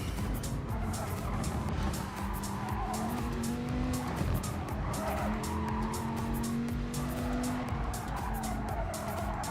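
Race cars on Circuit de Barcelona in GT Sport, engines roaring close with rising and falling pitch as they shift and corner, tires squealing in places and a fast pulsing rhythm throughout, with no talk.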